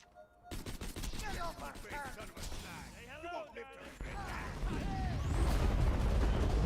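Rapid bursts of subcompact machine gun fire in a video game, dense crackling volleys building louder toward the end, with voices and game effects mixed in.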